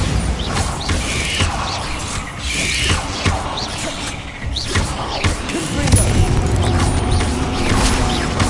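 Spell blasts and crashing impacts from the Bombarda and Confringo curses in Hogwarts Legacy, thudding and booming in irregular bursts over a dense bed of game combat noise and creaking mechanisms.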